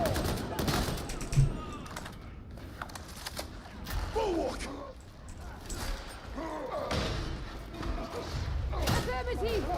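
Gunfire and thudding impacts in the video game Darktide, bursts of shots popping repeatedly over a dense mix of combat noise, with voices speaking throughout.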